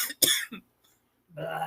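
A voice imitates a sheep coughing, giving a couple of short, harsh coughing bursts, then a pause before he starts talking again close to the microphone.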